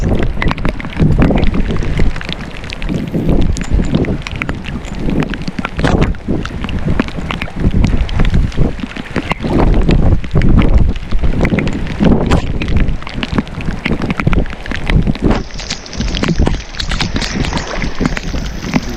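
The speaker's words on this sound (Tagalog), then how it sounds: "Hangin kasi to. Lakas ng hangin." Strong wind buffeting a fishing boat at sea near the river mouth while a net is set, a loud continuous gusting rumble with rough wind noise on the microphone.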